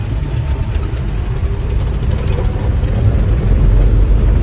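The engine of a snow trail grooming vehicle runs steadily close by. Its low, heavy rumble stays unbroken and gets slightly louder toward the end, with no talk.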